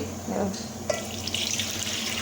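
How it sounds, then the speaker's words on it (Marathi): Water running from a tap into a vessel, a steady rushing stream with a low hum in the background and no talking. "एक तांब्या पाणी घेते"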